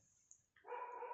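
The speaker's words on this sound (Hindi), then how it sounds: "अभी ये कुत्ता बहुत भौंक रहा है" A dog barks nearby, a single loud, sharp bark breaking out after a brief quiet stretch and holding to the end, with no talking.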